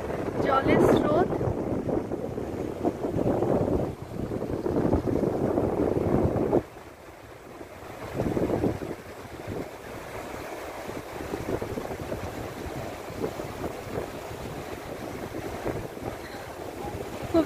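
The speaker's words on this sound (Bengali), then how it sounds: "খুব জোরে হাওয়া চলছে এখানে" Strong wind gusts across the microphone at a riverside viewpoint over the Rupnarayan river, loud and buffeting for the first several seconds, then easing to a steadier, softer rush with brief renewed bursts.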